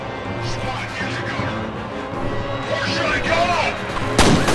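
Gunfire in the shooter game F.E.A.R., dense rumbling bursts and thuds layered with electronic effects, building toward a loud sharp blast near the end.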